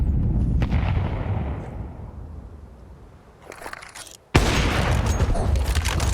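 Rapid gunfire from a Counter-Strike 2 match at a pro esports event, with loud bursts of rifle shots, a quieter lull with scattered shots, then a sudden sharp volley cutting back in hard.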